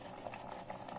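Sago pearls boiling in water in a pot, a steady close bubbling simmer, quiet and continuous with no voices.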